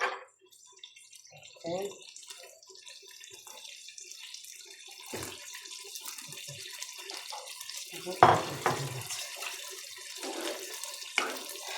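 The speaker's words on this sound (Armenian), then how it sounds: "բրինձը լվանանք լցնենք" Rice is rinsed under a running kitchen tap, with water splashing and trickling steadily and growing louder in bursts toward the end. A voice talks quietly in the background.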